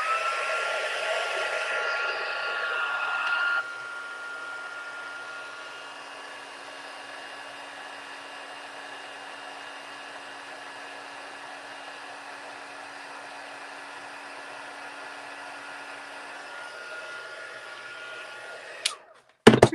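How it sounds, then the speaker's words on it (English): A heat tool blows steadily while melting white embossing powder, a loud whooshing hum that drops to a softer constant drone after a few seconds and then clicks off, with no talk over it. "I'm going to take my heat tool. I'm going to turn it on, let it warm up for a few seconds, and then I'm going to emboss."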